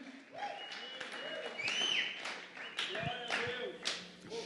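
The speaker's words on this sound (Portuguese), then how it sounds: "Aplauda ao Senhor Jesus Cristo." A church congregation claps for the Lord Jesus Christ in a brief, uneven round of applause, with scattered hand claps and taps mixed with voices and cheers.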